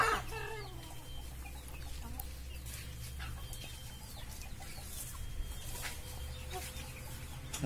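Chickens clucking around a rooster on a farm at Tadgaon, a continuous close chorus of clucks and calls over a low background hum, with no talking.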